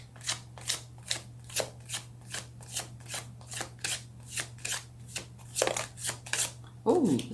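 Tarot cards being shuffled in a steady series of crisp riffling bursts, close and fairly loud over a low steady hum, with a sharper slap of cards near the end.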